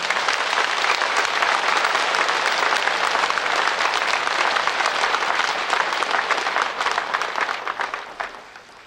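A large assembly at a Buddhist Dharma gathering at Baegyangsa temple applauds Zen master Songdae in a dense, sustained burst, holding strong for several seconds before thinning out and fading.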